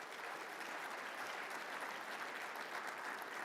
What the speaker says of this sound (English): Could you please give these companies a big round of applause?